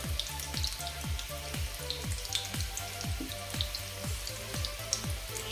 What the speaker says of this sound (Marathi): ब्राऊन रंग येईपर्यंत आपण हे फ्राय करायचे आहेत